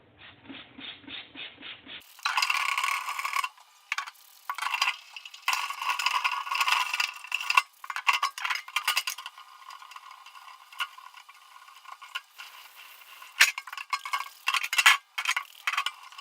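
A greasy kitchen hood filter coated in degreaser is scrubbed in bursts of rough, rasping strokes, close and uneven with brief pauses, after a short soft mechanical hum at the start.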